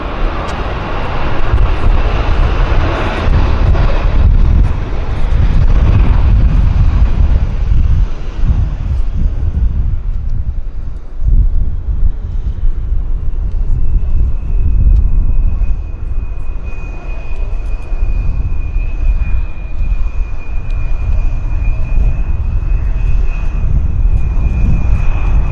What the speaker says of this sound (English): we got another aircraft on approach